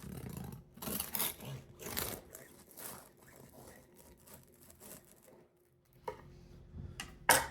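A knife saws through the crackling crust of a sourdough loaf, giving repeated close crunching and crinkling strokes, with a few quieter pauses and a sharper crack near the end.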